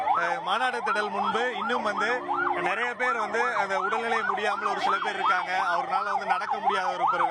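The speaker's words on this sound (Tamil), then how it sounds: "ஆம்புலன்ஸ் ஆனது வரிசையாக தற்போது மாநாடு திடல் செல்கிறது" Ambulance sirens wail in a steady, repeating rising-and-falling pattern as a line of ambulances heads toward a political rally ground, loud and continuous throughout while someone talks over them.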